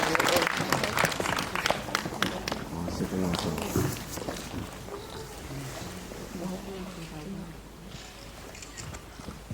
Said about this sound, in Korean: 네, 큰 박수로 맞이하겠습니다.